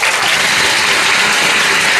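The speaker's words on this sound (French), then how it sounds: "Applaudissez également pour l'école." Loud, dense applause from an audience cheering for a school, a continuous wash of clapping that stays even and close for the whole stretch.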